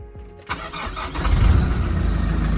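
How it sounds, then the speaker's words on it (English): A Nissan Navara D40 engine in neutral cranks briefly with a new starter motor's whir, catches, and settles into a steady, loud idle rumble close by. "Oh man, sounds really nice with the newer starter."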